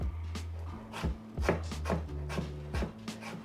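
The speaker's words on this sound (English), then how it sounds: "run your knife through to cut into thin matchsticks" Rapid knife chops on a cutting board, cutting carrot into thin matchsticks, about a dozen crisp close taps in an irregular rhythm, with no talking.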